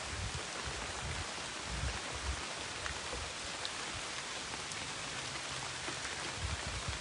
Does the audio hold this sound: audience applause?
no